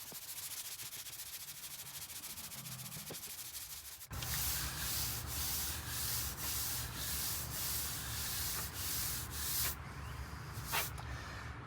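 Quiet rubbing gives way to steady, close abrasive sanding of car body filler, with rhythmic back-and-forth strokes repeating for several seconds before tapering off.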